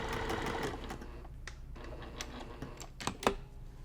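A sewing machine stitches a cross stitch mug rug, running in a longer burst at first and then in short, sharp, close runs of mechanical rattling with brief pauses between them.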